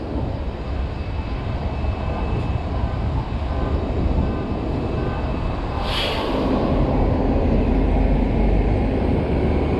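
A metro train rumbles past close by in Silver Spring, Maryland, a loud steady roar that builds toward the end, with a brief high squeal midway.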